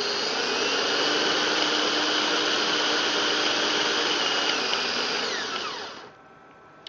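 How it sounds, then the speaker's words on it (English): A power drill whirs loudly and steadily at high speed for several seconds, then winds down and stops, leaving quiet background. "And if we rev our drill up"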